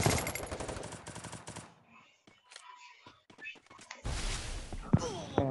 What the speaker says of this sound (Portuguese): Tô atirando nele, mas o cara não cai